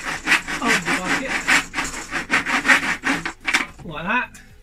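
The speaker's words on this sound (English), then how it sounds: "I'm sawing some slits on the side of the bucket," A hand saw rasps back and forth in quick, rhythmic strokes, cutting slits into the side of a bucket, close and clear, with a short squeaky scrape at the end.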